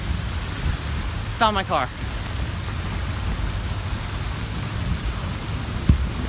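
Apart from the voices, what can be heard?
rain falling and puddling outside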